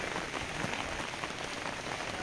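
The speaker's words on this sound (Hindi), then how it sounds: "बारिश आ रही है" Heavy rain falls steadily around a riverside ghat with stone steps in Rishikesh, a dense continuous hiss of drops striking wet surfaces that fills the scene without pause.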